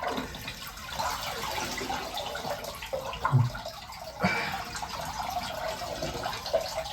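Shower water running in a bathroom, a continuous soft hiss of spray with occasional splashes and knocks, fairly quiet and steady.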